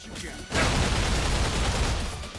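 Assault rifle fire in Like A Dragon: Infinite Wealth, a sudden, dense volley of rapid gunshots that starts sharply after a brief moment of quieter sound and keeps blazing loudly to the end.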